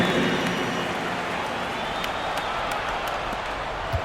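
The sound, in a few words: crowd applause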